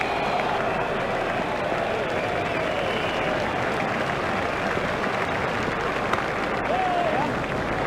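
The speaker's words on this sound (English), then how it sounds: "The crowd enjoyed that one." A stadium crowd in the cricket video game EA Cricket 2002 applauds and cheers in a dense, steady roar of clapping that lasts throughout, loud and continuous with no pauses.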